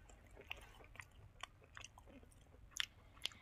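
Sticky rice is chewed close to the mic at a mukbang meal with braised pork, giving soft, moist, irregular chewing and smacking sounds with a few sharper clicks.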